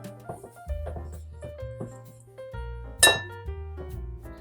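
A glass bowl clinks several times while being handled during dough preparation, with light taps and knocks through the clip and one brighter, sharper ring near the middle over quiet background hum.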